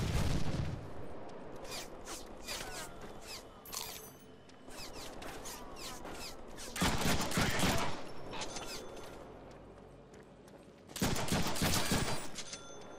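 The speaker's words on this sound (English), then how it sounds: "Think on that while I shoot you." Bursts of automatic gunfire from the Deadpool video game, loud rattling volleys near 1 s, 7 s and 11 s separated by quieter stretches of scattered shots and mechanical clatter.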